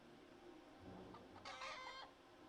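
Barnyard hens in the Orwell's Animal Farm game give a brief burst of clucking over a quiet, steady background hum, faint and a little distant.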